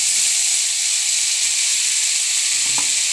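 Boiled potatoes drop into a pan of neem leaves frying in oil, raising a steady, loud sizzling hiss throughout with a brief stir or clatter near the end.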